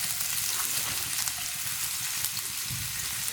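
Chopped ginger crackles in hot oil over a high flame for egg fried rice, giving a steady, fairly close sizzle with no voices.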